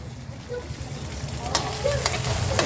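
Red curry paste stir-frying in fresh oil for a crispy pork dish, a steady close sizzle with scraping stirs and a few sharp clinks of the spatula against the pan.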